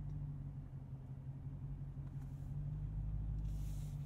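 A Dodge Challenger Swinger with a manual gearbox idles and rolls backward out of a parking spot, its engine giving a low, steady rumble at a moderate distance, with a faint hiss near the end.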